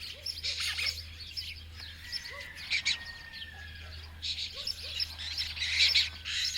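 Birds calling around the old stone town of Matera, pigeons, jackdaws and kestrels among them: repeated short chirps, squawks and cooing notes, some near and some distant, over a steady low hum.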